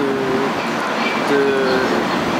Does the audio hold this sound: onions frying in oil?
no